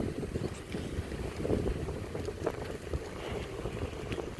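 Wind gusts outdoors on a farm path with a strong smell of cow dung, a steady broadband rush with fluctuating buffeting, loud and close to the microphone, no speech.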